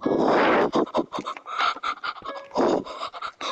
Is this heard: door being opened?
no